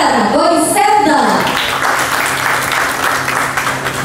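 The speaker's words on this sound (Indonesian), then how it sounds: "beri tepuk tangan yang meriah juga untuk Bapak Suyarto dari Jakarta Toy Center" Audience applause for a dealer representative at an Indonesian toy-industry event, loud and steady throughout; an announcer's voice with musical tones opens it before the clapping dominates.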